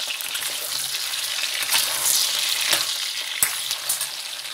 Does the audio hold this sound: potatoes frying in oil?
yes